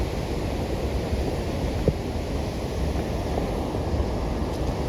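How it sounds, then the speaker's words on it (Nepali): Apsa stream, a small mountain river in Nepal, rushes as a steady broadband roar that stays loud and continuous throughout, with gusty wind noise on the microphone mixed in and no voices. "यो चाहिँ अप्सा खोला।"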